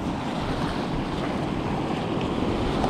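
Sea waves surge and wash over coastal boulders in a continuous, loud roar of churning surf with steady wind noise across the microphone, no voices heard.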